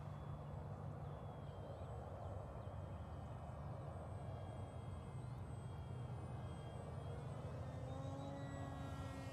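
A Parkzone Icon A5 RC seaplane flies overhead, its electric motor giving a continuous faint buzzing whine over steady wind and outdoor background noise.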